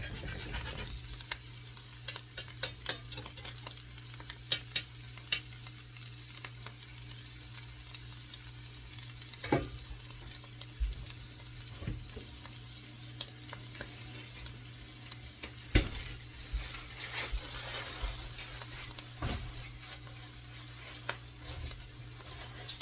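Chopped onions fry in a pan for an omelette, giving a soft, continuous sizzle and crackle with scattered faint pops and clicks throughout, and no talking.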